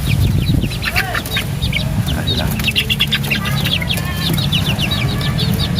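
Young two-month-old chickens, a dozen of them, clucking and peeping busily in their coop, overlapping chirps and calls with some wing flapping, close and lively.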